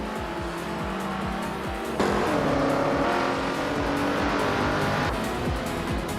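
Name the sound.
1964 Porsche 356C race car engine in a racing video game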